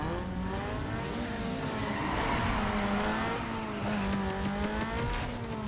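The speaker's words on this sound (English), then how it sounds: "the car is actually like launching well into the lead" A tuned street car launches hard in Need for Speed Underground 2, its engine note rising and sweeping through gear changes with tyre squeal, loud and continuous throughout.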